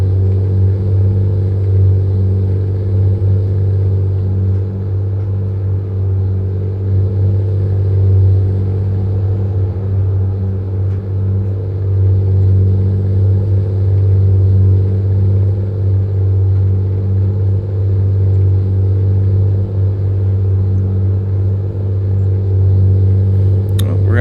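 A hot shot truck's engine in American Truck Simulator rumbles steadily at a low, constant pitch, loud and continuous throughout with no breaks.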